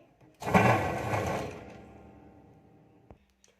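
A sewing machine runs a stitching pass along the edge of blouse fabric, a loud close whirring burst lasting about a second that fades out, with a faint click near the end.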